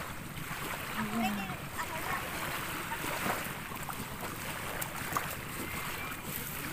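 Fishing boats setting out to sea on a calm day, with a steady broad wash of engine and water noise throughout, moderately loud and continuous.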